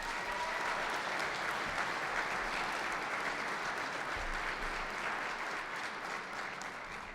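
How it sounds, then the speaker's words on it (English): Award recipients at an academic excellence ceremony receive a continuous round of applause from the audience, a dense, even clapping that holds steady and tapers slightly at the end. "let's give them another round of applause"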